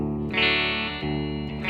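A short electric guitar lick rings out with chorus and slight overdrive, a few strummed chord hits with bright sustained tone and some reverb, played alone.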